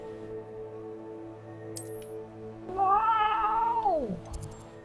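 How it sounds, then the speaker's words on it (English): A cat in the Hogwarts Legacy game gives one loud, drawn-out meow that rises and then falls sharply, heard clearly over a low background hum. "Oh, Corky, meow your head off again and I'll come down there and go"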